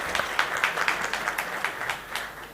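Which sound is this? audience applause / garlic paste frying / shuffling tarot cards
audience applause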